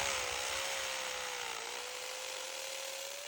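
Worn hammer drill with a slipping clutch boring pilot holes into concrete for rebar, a steady high whine throughout, close and continuous with no talk.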